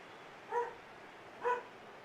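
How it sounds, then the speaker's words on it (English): A dog barks from another room, giving two muffled, faint barks about a second apart over a quiet room hum. "His bark just travels. I think everyone down the street can hear it."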